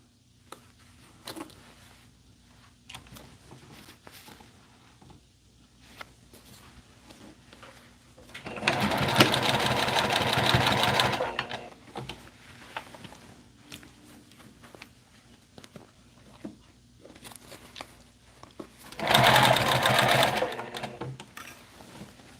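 A sewing machine stitches fabric in two loud, rapid whirring bursts of about three and one and a half seconds, separated by quieter stretches of faint handling clicks and rustles.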